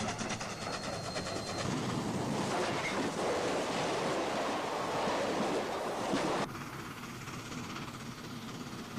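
Daylight steam locomotive pulling about twelve cars, burning oil, runs past as a continuous heavy rumble and rushing roar, loud and steady, then drops to a lower, more distant level near the end.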